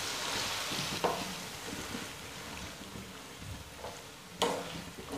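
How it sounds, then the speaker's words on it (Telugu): Ginger garlic paste fries gently in oil on a low flame, giving a steady, soft sizzle with a couple of sharper scraping stirs, close and alone. "ఈ విధంగా పెట్టడం వల్ల అల్లం వెల్లుల్లి పేస్ట్ అనేది మాడకుండా మంచిగా ఉడుకుతుంది నూనెలో."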